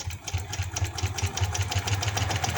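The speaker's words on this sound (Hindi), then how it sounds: "इसी तरह एंड तक मैं इसकी कन्नी की सिलाई लगा देती हूँ" A sewing machine stitches the edge of a capri, its needle pounding in a steady, fast rhythm with an even mechanical hum throughout.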